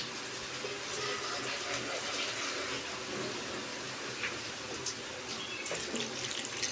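Water is poured into a pot of soybean curry as it cooks, a quiet, steady splashing trickle that runs throughout with no talking.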